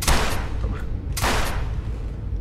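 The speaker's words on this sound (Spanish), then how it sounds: "Dos tiros." Pistol gunfire in the survival horror game Silent Hill Homecoming, set in a prison level: two sharp, loud shots roughly a second apart over a dense, noisy game soundscape.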